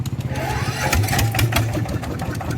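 A farm tractor's diesel engine turning over and chugging into life, a close, loud, rapid mechanical knocking rhythm throughout.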